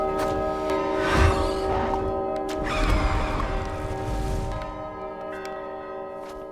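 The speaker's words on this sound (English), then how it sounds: "when it does the big scream, there we go, it's going to hit the bell." A bird strikes a large bell in the video game Gris, giving two resonant clangs about two seconds apart over sustained game music, with ringing tones that linger and slowly fade.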